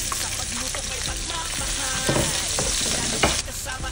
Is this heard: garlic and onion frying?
yes